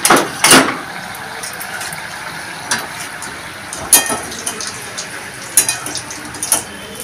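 Pakoras frying in mustard oil, giving a steady crackling sizzle broken by a few sharp pops and spatters at irregular moments.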